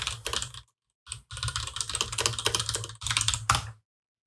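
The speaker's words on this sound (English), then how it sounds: "Never mind my extremely loud keyboard." Loud computer keyboard typing clatters in quick bursts of keystrokes separated by short pauses, close and crisp with no voices.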